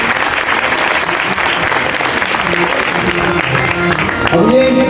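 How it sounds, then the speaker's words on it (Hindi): Devotional katha audience applauding together during a Ganesh Chaturthi gathering, a loud, continuous burst of many hands clapping that runs throughout, with a voice rising near the end. "ताली तो बजानी पड़ेगी"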